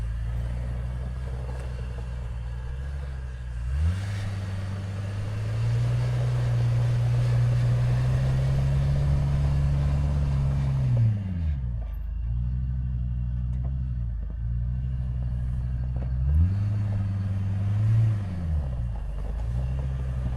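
A lifted Ford Excursion stretch limo with newly added four-wheel drive rumbles along on tires at about 40 PSI, its low engine drone rising and falling through several gear changes, steady and close, with no talk.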